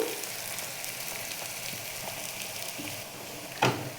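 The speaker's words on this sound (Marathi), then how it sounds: "टाकून पेस्ट तेलामध्ये घेऊयात परतून" A garlic and coriander paste fries in hot oil with onions for a lentil curry, making a steady close sizzle with faint stirring ticks and one sharp clatter near the end.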